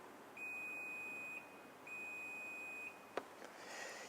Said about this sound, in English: It will then make a beep.